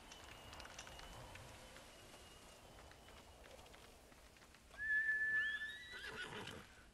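A horse neighs in Ghost of Tsushima, a loud whinny rising and falling near the end over a quiet bed of ambient game noise and faint hoof sounds.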